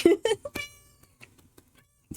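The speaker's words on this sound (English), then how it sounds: "the cat is here." Near the start a house cat gives a few short, close chirpy meows, then quieter scattered sounds follow, and one more brief cry comes at the end.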